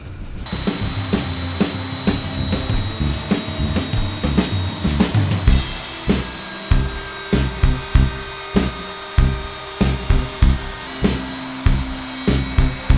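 A router with a dovetail bit cuts a groove in wood for a sushi plate, giving a steady high whine broken by a run of rhythmic bursts of cutting noise, close and loud with no voices.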